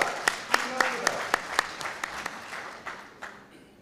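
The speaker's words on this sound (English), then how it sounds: "Guys, you clap for that." Scattered audience clapping at a regional agroecology summit in Uganda, a dozen sharp claps in loose rhythm that thin out and fade, with murmuring voices underneath.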